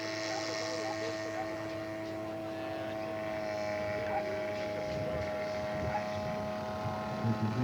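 A scale model aircraft with a three-bladed propeller flies past a turf field, its steady engine drone holding level and rising slightly as it nears, while an announcer talks.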